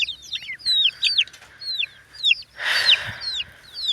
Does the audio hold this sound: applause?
no